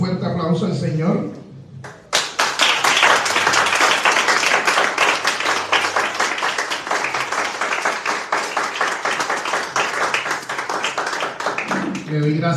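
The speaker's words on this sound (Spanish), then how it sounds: "Ahora demos un fuerte aplauso al Señor" A church congregation at a Sunday service bursts into loud, dense applause after a short spoken lead-in, the clapping sustained for about ten seconds before a voice returns at the end.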